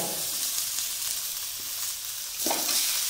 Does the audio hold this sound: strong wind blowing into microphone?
no